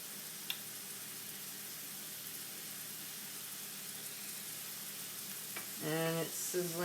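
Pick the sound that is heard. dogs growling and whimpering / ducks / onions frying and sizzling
onions frying and sizzling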